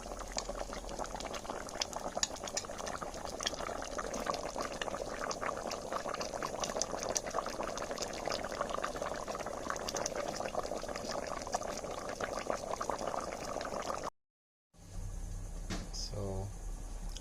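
Black and pinto beans boil in a pot of water over a wood fire in traditional Maya style, a steady dense bubbling and churning that runs nearly throughout, briefly cutting out before resuming.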